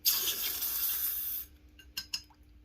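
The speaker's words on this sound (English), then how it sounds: "and then we're going to put it in some water." A hot, freshly soldered spoon ring is plunged into water, giving a loud sizzling hiss for about a second and a half that cuts off abruptly, followed by a couple of small splashes and drips.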